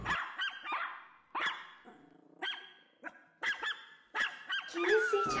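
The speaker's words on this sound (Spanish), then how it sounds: "por fortuna vigilo yo y mis perros Caín y Abel." Dogs barking in a live stage play, a string of sharp close barks in bursts with brief growling between them, ending in a louder overlapping cluster.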